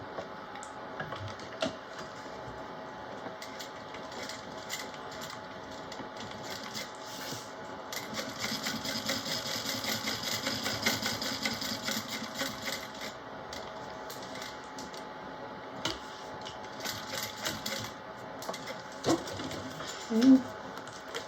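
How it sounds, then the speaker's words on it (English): A sewing machine top stitching along a folded fabric edge, running in a steady continuous whir for many seconds with brief pauses and a few clicks, close and fairly quiet without talk. "Now we're going to top stitch this folded edge. And we can do a couple of back stitches at each end."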